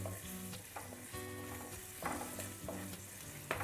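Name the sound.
stirring asafoetida and turmeric into a pan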